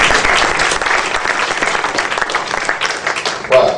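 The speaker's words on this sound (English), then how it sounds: "First, you get an applause." A seminar audience applauds with dense, steady clapping that stays loud for several seconds and swells briefly near the end.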